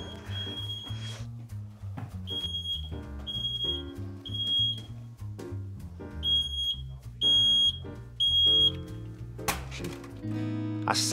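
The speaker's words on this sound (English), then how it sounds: "Who's set the smoke alarm off?" A smoke alarm beeps repeatedly in short high-pitched bursts, cutting through background music and noise.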